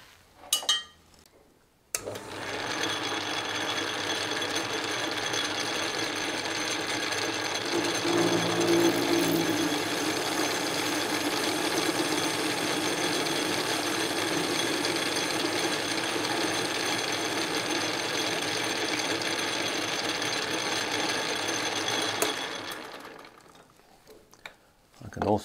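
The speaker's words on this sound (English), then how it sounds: "Also hear my change gears whizzing around back there." A wood lathe runs steadily while turning a fire poker handle, its loose change gears whirring behind it, giving a constant mechanical hum and whine that starts abruptly and winds down near the end.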